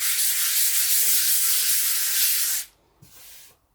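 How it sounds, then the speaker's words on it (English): Steady abrasive rubbing of sandpaper on a flat gessoed MDF board, continuous for a few seconds, then a brief pause and one more short stroke. "I can just feel the difference where I've sanded, and I'm not sanding much at all"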